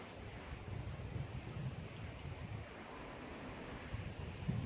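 Strong wind rustles through tree branches outdoors, a steady, fairly faint wash of leaf noise with gentle gusting swells and no talk.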